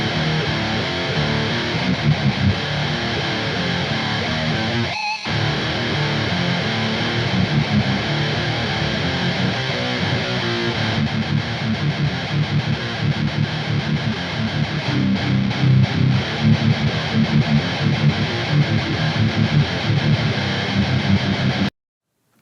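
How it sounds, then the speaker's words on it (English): Electric guitar reamped through a Boss Metal Zone pedal used as a boost, a dense, heavily distorted metal rhythm part playing continuously and loud, with a brief gap near the five-second mark and no talk. "So here are the guitar tracks that we reamped for the All Consumed record, and this is with the Boss Metal Zone as a boost."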